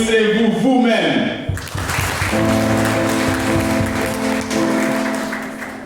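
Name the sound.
church congregation applauding themselves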